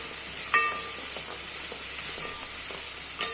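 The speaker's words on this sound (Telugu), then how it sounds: "ఇప్పుడు మనం ఆల్రెడీ కట్ చేసుకొని కడిగేసి పెట్టుకున్న తోటకూర ఉంది కదా దీన్ని వేసేసుకున్నాం" Freshly washed, chopped amaranth leaves go into a hot pan with ginger-garlic paste and turmeric, frying with a steady close hiss and sizzle and a few soft clinks of stirring.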